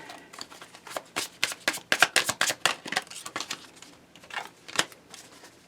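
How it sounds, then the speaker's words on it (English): Rapid, crisp riffles of tarot cards being shuffled up close, several bursts of fluttering clicks with brief pauses between them, no talking. "I think it's 9 times you have to riffle shuffle something before it's properly shuffled."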